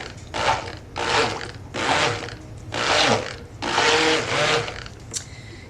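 Stick blender mixing brown sugar and fig cold process soap batter with additives, run in about six short whirring bursts, each roughly half a second to a second long with brief pauses between, close and loud.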